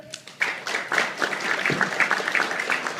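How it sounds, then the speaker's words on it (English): Audience applause and clapping from a live comedy crowd, the married people in the room responding on cue; dense, steady clapping runs throughout, fairly close and loud with a brief quieter start. "How many married folks by applause again here?"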